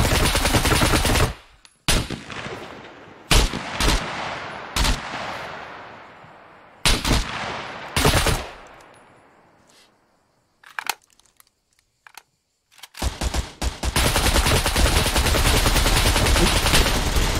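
Gunfire in the survival video game SCUM: loud, close single shots and short bursts separated by quiet gaps, then a sustained rapid volley at the end.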